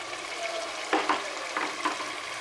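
Fried potatoes go into a pan of frying mutton for a Bengali kasha mangsho nihari, bringing a steady close sizzle with a few louder scraping, stirring bursts as they are mixed in.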